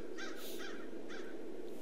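An American crow calls in a few harsh caws near a perched bird of prey on a building on a winter morning, the rasping calls coming in short bursts over steady outdoor background hiss.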